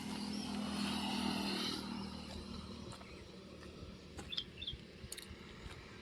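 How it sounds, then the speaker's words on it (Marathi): A motor vehicle passes on a nearby highway, a faint engine rumble swelling then fading away, followed by quiet outdoor ambience with a few soft chirps and clicks. "हायवे बाजूला असल्यामुळे ना गाडीचा आवाज येतच जातोय"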